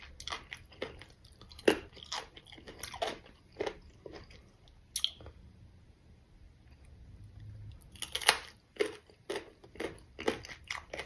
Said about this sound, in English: Eating Jeow Maung